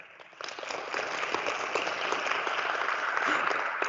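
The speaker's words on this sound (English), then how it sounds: "I'd like you to give yourself a round of applause" Standing participants at a De Beers Venetia Mine school innovation challenge applaud themselves, the clapping swelling after a quiet start into steady, moderately distant applause.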